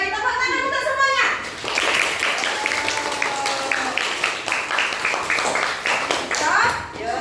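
Schoolchildren in an elementary classroom clap together for everyone, a dense burst of hand claps that swells and continues over children's voices and chatter.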